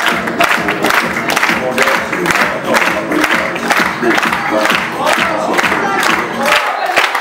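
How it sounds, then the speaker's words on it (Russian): A loud crowd claps and cheers continuously for performers taking the stage at a birthday show, with shouts and whoops rising over steady applause. "Аплодисменты!"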